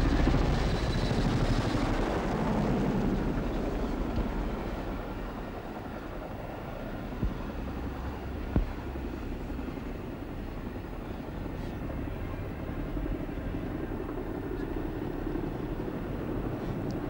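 Boeing CH-47 Chinook helicopters at a 1981 RAAF Diamond Jubilee display, their steady rotor roar filling the whole stretch at a loud, fairly constant level as they pass.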